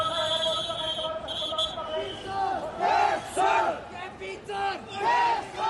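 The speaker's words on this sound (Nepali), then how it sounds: "तर भीड पछाडि हट्दैन।" A Gen Z protest crowd shouts and chants near the parliament building in Nepal, rising in surging waves of massed voices with a steady rumble of crowd noise beneath.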